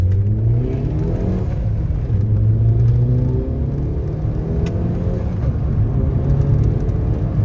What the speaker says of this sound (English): we're gonna do some boosting now